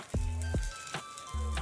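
A paneer sandwich pizza made on leftover chapati roasts in ghee on a hot pan, giving a soft, steady sizzle with a few low thumps as it is handled, all close and fairly quiet.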